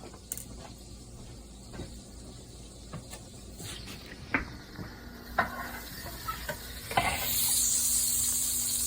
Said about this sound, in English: over here on the stove, I have about a teaspoon of butter